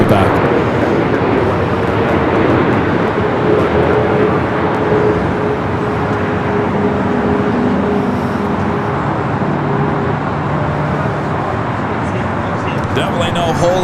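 A Lufthansa airliner lands on runway 24 right at Los Angeles International Airport, its loud, steady jet roar filling the whole stretch with a low rumble and faint tonal whine, and a voice talks over it.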